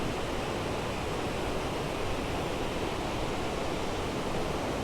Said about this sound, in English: See more little waterfalls way back there too.